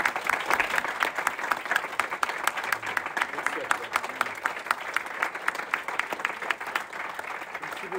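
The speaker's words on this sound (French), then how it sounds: "On peut applaudir nos deux invités." Audience applause for two guests at a French-language conference, a dense, steady wash of many hands clapping that fills the room from start to finish, with a voice speaking faintly underneath.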